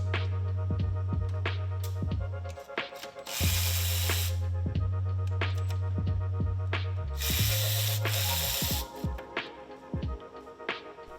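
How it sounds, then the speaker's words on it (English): A ratchet wrench clicks in quick bursts while 10mm bolts come off the steel lines beside the intake tubing of a Honda Civic Type R FK, with a low motor hum and two brief louder rushing bursts. "Now we're going to take off these 4 10mm bolts on the 2 steel lines that run parallel with the intake tubing."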